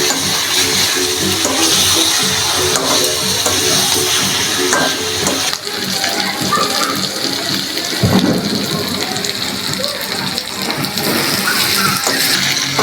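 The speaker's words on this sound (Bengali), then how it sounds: "আমি এখন এর মধ্যে ভেজে রাখা আলুগুলো দিয়ে একটু নাড়াচাড়া করে জল দিয়ে দেবো।" Chicken curry with pre-fried potatoes sizzles loudly in a pan while being stirred, a dense, continuous frying hiss with scraping movements and a brief heavier clatter partway through.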